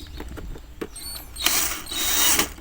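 A whirring electric drill spins up in short bursts while repairing a Hatari 16-inch fan that won't spin, then runs steadily with a rising high-pitched whine, close by.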